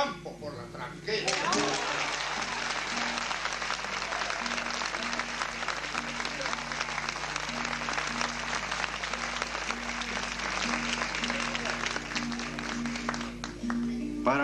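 Steady, dense applause from an audience at a tango tribute concert in a theatre hall, sustained for several seconds at an even level after a brief quieter start.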